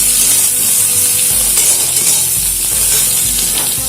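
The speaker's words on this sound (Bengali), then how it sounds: "এই সময় আমি এর মধ্যে দিয়ে দেবো পেঁয়াজ" Onions sizzle loudly in hot oil in a pan while mourala fish chorchori is cooked, a steady, dense frying hiss with faint stirring scrapes, close and continuous.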